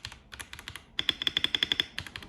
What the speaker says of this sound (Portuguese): Deixa eu ver aqui as teclas. Ó, não sei se você está conseguindo ouvir o barulho aí.